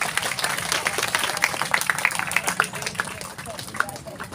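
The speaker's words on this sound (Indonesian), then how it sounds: "Tepuk tangan buat Humaira." Clapping from an audience at a school Quran camp opening event, crisp individual claps forming a lively irregular patter of moderate size, with a few voices mixed in.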